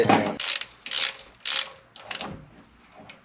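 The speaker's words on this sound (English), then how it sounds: "So what we're gonna do is tighten the bitch down. Oh no. Ratchet." Ratchet wrench tightening a nut on the engine mount of a 1UZ V8 engine swap, heard as a run of fast, close clicking bursts with brief pauses between strokes.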